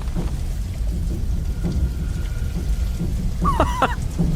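Steady heavy rain pours throughout a scene of an animated Warhammer 40K film, a dense unbroken hiss with low rumbling underneath and a short tonal chirp near the end.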